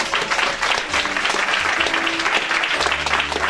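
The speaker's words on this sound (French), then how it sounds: "Acclamons très fort." A church congregation applauding loudly in praise, dense continuous clapping from many hands that fills the whole stretch without letting up.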